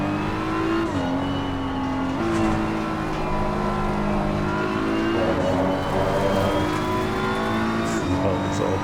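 Race car engines roar through a racing video game as a close pack of four cars battles, with sustained high revving pitched up and down by gear shifts, loud and continuous.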